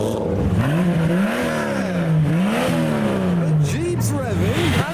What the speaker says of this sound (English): Jeep's revving, and the Volvo.